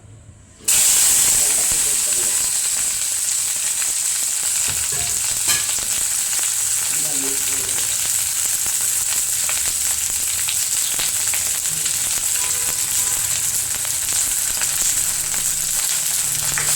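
Okra sautéing in hot oil in a kadai gives a steady, loud sizzle with a hiss. The frying noise runs unbroken for the whole stretch after a short silent start, with faint stirring scrapes mixed in.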